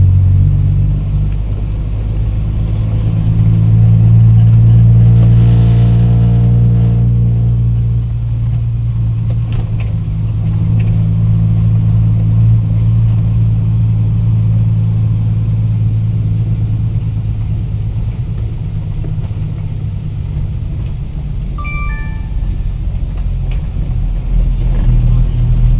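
A heavy truck engine drives past at close range, a loud low rumble that swells early and then settles into a steady drone, with people talking over it.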